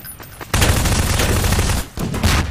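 A grenade goes off in a prop hunt video game, a loud close blast that erupts after a brief quiet start and roars on with crackling debris, dipping briefly before another burst.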